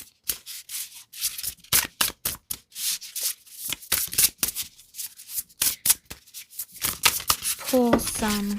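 Tarot cards are shuffled by hand in quick repeated riffles and rubbing slides, close and crisp in irregular bursts, with a voice speaking briefly near the end.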